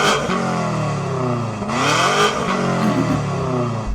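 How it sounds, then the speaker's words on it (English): A new 1,000 hp BMW M5 fitted with a weight-saving Akrapovic exhaust revs hard, loud and close, its engine note climbing, dropping and rising again in steady, raspy sweeps with no talk over it. "Let's check out the sound of my weight-saving Akrapovic exhaust."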